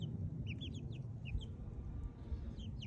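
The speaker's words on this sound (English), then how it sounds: "Oh, here's the chickens." Young chickens about four or five weeks old cluck and cheep softly outdoors near a coop under construction, with repeated short calls over a low rumbling background.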